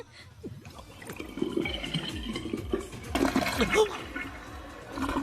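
Ice water poured out in a rush, splashing and gurgling for several seconds with a few louder bursts, close by, with some background movement.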